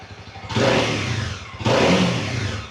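A Honda CB300R motorcycle engine, a 2020 ABS model with its original exhaust, revs up twice from idle with small throttle twists, each burst rising sharply then easing back, loud and close with no talking.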